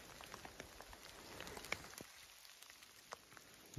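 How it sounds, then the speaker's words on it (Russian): Steady rain patters on leaves and the forest floor in a woodland in Tver Oblast, a dense hiss with occasional louder drops, close and continuous with no voices. "Дождь немного усилился"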